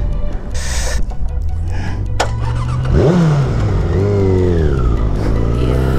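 A Suzuki Bandit 600 motorcycle engine loudly revs and accelerates close by, its pitch climbing steadily through rising sweeps after a brief dip, with a continuous throaty drone and no talk over it.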